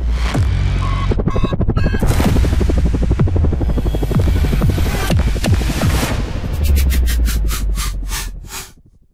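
An Airbus H-125 civilian helicopter throbs loudly with steady rotor thumping and engine hum, close and continuous, then fades away at the end.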